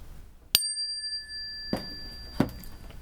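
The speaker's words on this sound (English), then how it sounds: "I'm going to ring the bell. I'm going to ask you to listen carefully" A single bell struck once rings out sharply, its clear tone hanging and slowly fading over a quiet room, with a couple of soft thumps afterward.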